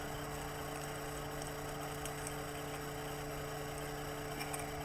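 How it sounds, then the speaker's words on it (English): A quiet mechanical hum from a hot air rework machine cycling drones steadily in the background, an even motorized whir with faint higher ticks, no voices. "that noise you hear in the background is the hot air machine cycling"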